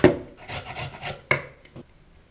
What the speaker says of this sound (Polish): Ścieram kalafior. Lepiej go ścierać na grubych oczkach.